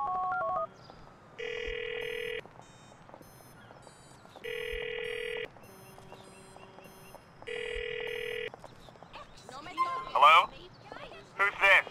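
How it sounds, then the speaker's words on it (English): A phone ringing in the video game Grand Theft Auto IV: three evenly spaced electronic ring bursts of about a second each with quiet gaps, followed by brief chirpy game sounds and shuffling. "You've got to call him and keep a lookout for someone answering a phone."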